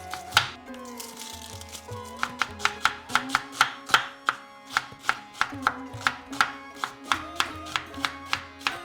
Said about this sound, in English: just literally roughly chop these into small pieces